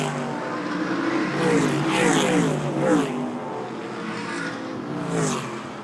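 Short track race cars roar down the front straightaway of an oval speedway, several engines blending in a loud sustained drone with swelling pitch sweeps as cars pass, close and continuous.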